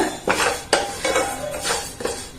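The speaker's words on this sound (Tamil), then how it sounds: "இப்ப ஒரு நிமிஷம் லேசாக வறுத்துட்டு பார்ப்போம்" Dal and rice dry-roasted without ghee in a pan for ven pongal, stirred with a utensil that makes repeated scraping, rustling strokes and metal knocks against the pan, close and fairly loud.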